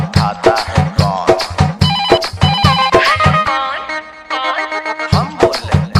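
A loud, bright telephone ringtone melody built into a Bhojpuri DJ remix song repeats in quick rhythmic bursts over punchy beats, with the beat dropping out briefly near the end.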